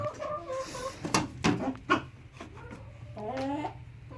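Hens clucking close by in short, soft, intermittent bursts, with quiet pauses between the calls.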